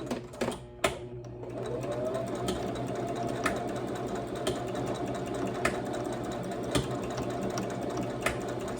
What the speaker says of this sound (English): So I am back stitching so that it can secure the ends.